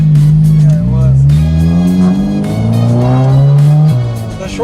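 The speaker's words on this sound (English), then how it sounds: "This little car is loud." A small Honda Civic Si engine revs loudly and climbs in pitch through very short-shifted gears, close and raspy, with brief dips between shifts.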